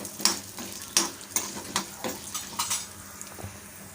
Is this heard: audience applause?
no